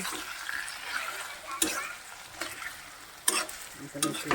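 Meat cooks in a pan in a village kitchen, with a hissing fry and wet scraping stirs, plus a few sharp clanks of the spoon against the pan.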